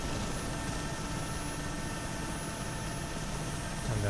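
A steady, loud helicopter engine and rotor drone from a Mi helicopter in the DCS flight simulator, holding constant as it rolls down a runway to gather speed.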